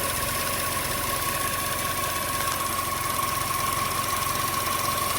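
A Chevy Sonic or Cruze engine idles rough in the engine bay, with a suspected vacuum leak and the check engine light on. It is a steady, continuous mechanical hum and drone, close and even throughout, with no talking.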